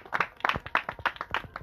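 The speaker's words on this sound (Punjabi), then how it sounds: "ਇਹਨਾਂ ਵਾਸਤੇ ਭਰਪੂਰ ਤਾੜੀਆਂ" An audience at a talk in Faisalabad claps in uneven bursts, individual hand claps standing out sharply over a thin crowd, fairly close and moderately loud.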